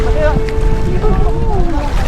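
A boat motoring on water with a constant engine drone and wind buffeting the microphone, while a voice calls out over it.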